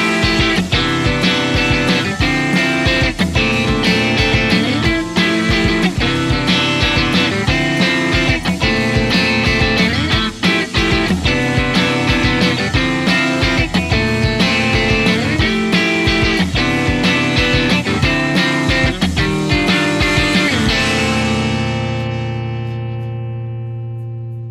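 A guitar chord progression played over driving drums borrowed from a song, full and loud throughout before the last chord rings out and fades alone.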